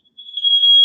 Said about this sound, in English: Smoke detectors are going off of my house.